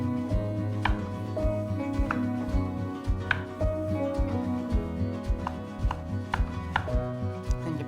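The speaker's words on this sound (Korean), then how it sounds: "이렇게 포를 한번 두껍게 떤 다음에 다시 썰어 주세요" A knife cuts through thick shiitake mushroom slices on a cutting board, giving a steady run of crisp, evenly spaced chops close by, with no talking.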